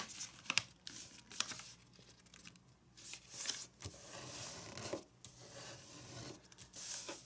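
Origami paper being folded into a wristband, with close, continuous rustling, rubbing and crinkling as edges are creased and pressed, punctuated by brief sharper crackles.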